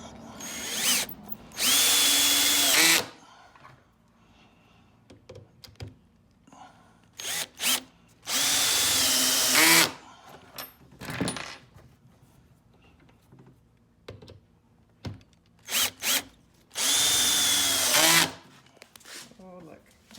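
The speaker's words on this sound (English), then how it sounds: "We drilled the pilot holes, did the countersink" A power drill whines in three loud bursts of about one to two seconds each, boring countersunk pilot holes into 2x4 bench legs for a farmhouse bench; a person talks between the bursts amid small handling clatter.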